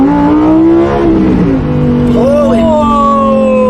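A streamer's new car accelerating hard, its engine note climbing in a loud close harmonic whine, dropping briefly at a downshift, then pulling up again; people talk over the engine.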